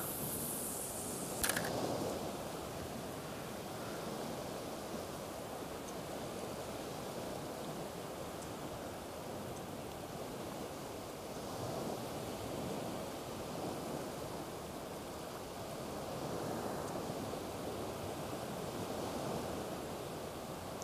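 A swollen river where someone is fishing for sea bass gives off a continuous broad rush of water, loud and close throughout, with a brief sharp knock early on.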